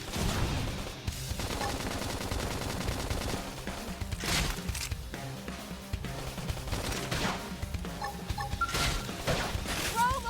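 Dense, continuous gunfire with rapid automatic bursts and scattered crashes fills the whole stretch, loud and busy like a firefight in Xenoblade Chronicles X: Definitive Edition.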